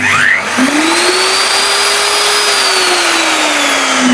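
A core cutting machine runs continuously and loudly close by, its motor whine rising in pitch as it spins up, then holding a steady tone before easing slightly at the end. No one speaks.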